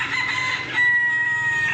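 Chickens and a chick brood on a village farm, with clucking and crowing-like calls carrying steadily over outdoor background noise, no talking.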